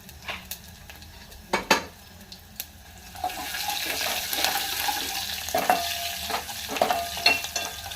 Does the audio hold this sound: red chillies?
yes